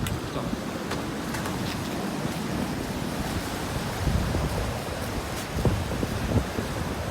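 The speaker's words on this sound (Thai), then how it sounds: "ลมแรงครับ ไม่รู้เสียงลมจะเข้า" A strong, steady wind roars and buffets the microphone at the seaside at Pak Nam Pran, Pranburi, Thailand. Surf rumbles beneath it at the shore, and no one speaks.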